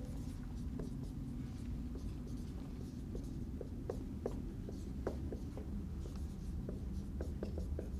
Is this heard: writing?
yes